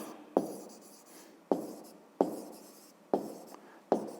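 Pen strokes on paper during a fifth-grade math exercise: five sharp scratchy onsets, each trailing off into a softer scraping stroke, spaced roughly a second apart, close and fairly quiet with no voices.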